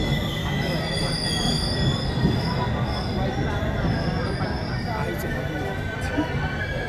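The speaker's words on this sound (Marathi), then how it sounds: "ट्रेन आलेली आहे सो चला डायरेक्ट ट्रेनमध्ये बसून घेतो" A train at Roha station squeals and rumbles on its wheels, with a steady loud grinding roar and high metallic squeals sustained throughout, close by, with a faint murmur of people in the background.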